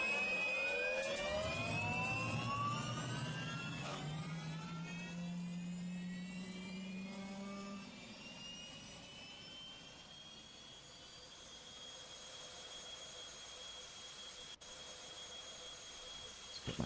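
A Eurofighter's jet engine spools up with a rising whine and deep roar, building in the first seconds then sustaining a broad, steady rush as it settles toward a constant high-pitched hiss.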